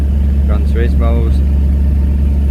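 A Maserati GranTurismo with the 4.2 V8 idles close by, a steady low rumble that holds evenly throughout while someone talks briefly over it.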